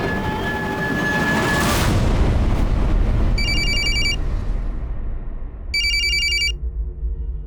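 A telephone bell rings in two bursts separated by a pause, loud and close over a steady rumbling background.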